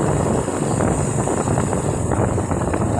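Strong wind buffets a microphone outdoors in San Fernando, Camarines Sur, a constant low, rumbling roar that fills the whole stretch with no voices.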